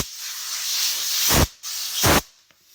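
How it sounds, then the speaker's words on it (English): Compressed air from a handheld nozzle hisses steadily against a leather car seat during a hole repair, with two louder, closer blasts and short gaps between them. "let's blow it off with our super duper telescooper handy dandy air nozzle"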